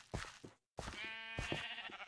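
Sheep bleat close by in a short series, ending in one long, wavering bleat, with a brief silent pause between the calls.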